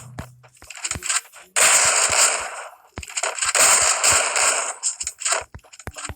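Bursts of rapid automatic gunfire crackle from a shooting video game, with short sharp single shots between longer loud sprays, close and harsh, with no voice over them.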